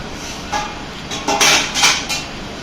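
Dishes washed by hand produce a handful of close, irregular clatters and clinks of metal pots and utensils knocking together.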